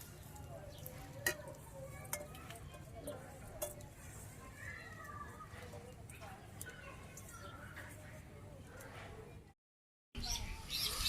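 Rice and lentils being fried in a pan, a continuous low sizzle with scattered spatula scrapes and clinks, under intermittent background talking, with a brief cut to silence near the end.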